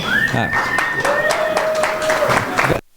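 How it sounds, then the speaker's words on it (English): Applause at a film festival award ceremony in Sarasota as an executive is introduced. Steady clapping runs for almost three seconds, with whistling tones over it and someone talking, then it cuts off. "yes, give a round of applause"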